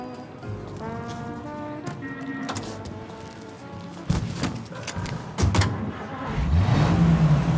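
Car engine in Mafia Definitive Edition, idling and then revving up as it pulls away, with a rising whine near the end and a few clunks, close and steady.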